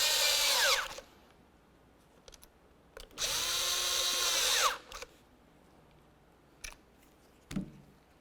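A power drill snugs mounting bolts during a heater blower motor replacement on a 2005-2010 Chevrolet Cobalt, giving two whirring bursts with rising and falling pitch, a short one and then a longer one, separated by quiet handling clicks.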